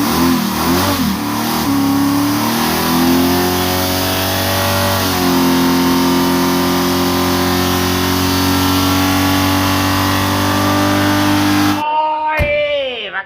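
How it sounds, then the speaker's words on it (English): A black ute's engine is revved loudly and held at high revs for a long stretch, with pitch swells early on and steady droning later. It cuts off abruptly near the end, and a brief burst of other sound follows. "gave the Black Ute a bit of a rev up"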